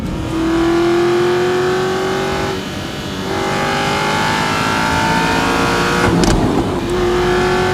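The naturally aspirated V8 of an Aston Martin Vantage revs hard and holds high near the redline, drops briefly as it shifts, then climbs and roars again, heard close up.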